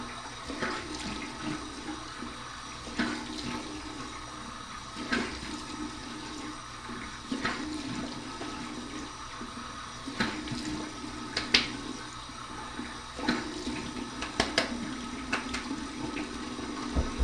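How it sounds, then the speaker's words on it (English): Cold running water from a tap splashing continuously, with intermittent louder splashes and sloshing, close by and without any voices. "here's my cold water rinse"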